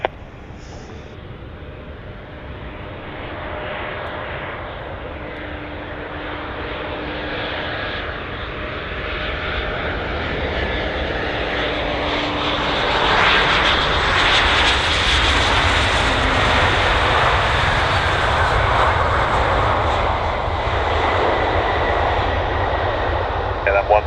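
A Lufthansa airliner lands on runway 09 at Bristol Airport, its engine roar building steadily from a distant rumble to a loud, sustained wash of noise, with faint tonal whine riding on top throughout.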